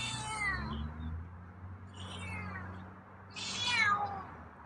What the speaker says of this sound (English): Meow. That's a meow.